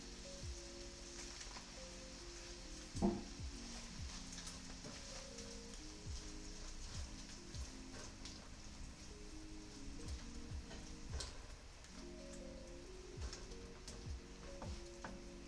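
Shrimp and chives sizzle steadily in a hot pan, a faint continuous crackle with occasional soft clinks and scrapes, no talking.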